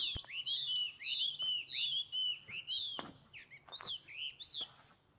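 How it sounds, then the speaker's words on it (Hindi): Birds in a forest chirp and whistle in quick, bright repeated phrases, close and clear, with a few sharp snaps and rustles in between. "चिड़ियों की आवाज़ें"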